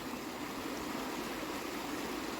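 A river flows beside an outdoor spot, a steady, even wash of water that is moderately faint and continuous, with no voices.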